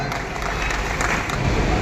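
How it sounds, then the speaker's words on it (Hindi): People at a notebook distribution gathering clap to welcome a poet, a short burst of crowd applause that fills the room steadily for under two seconds. "तालियों में आप इस्तेमाल करें शायर इस्लाम आज़ाद अनवर साहब।"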